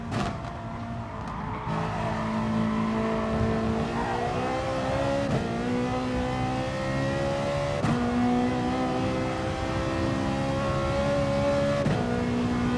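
Ferrari race car in Gran Turismo Sport, its engine note climbing and dropping through gear changes with rising whining pitch, tires squealing as it slides through corners on worn rubber, loud and continuous with no talking.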